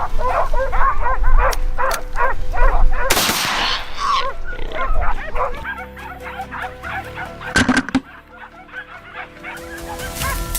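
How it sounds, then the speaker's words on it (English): Hunting dogs baying during a wild boar hunt on farmland, a continuous series of rhythmic barks and bays at moderate distance, with a couple of sharp loud bursts partway through. "the baying of hunting dogs caught Kevin's attention"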